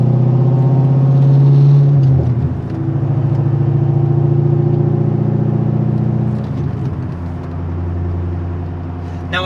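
A C5 Corvette fitted with Speed Engineering headers and deleted catalytic converters idles with a loud, deep exhaust drone, blipping briefly before settling back into a steady, close rumble.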